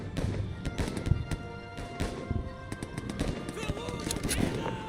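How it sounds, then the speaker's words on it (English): Gunfire in a video game from a single-shot rifle, heard as sharp separate cracks mixed with other game noise and busy background sound, with people talking excitedly over it. "It's a single shot rifle, of course it is."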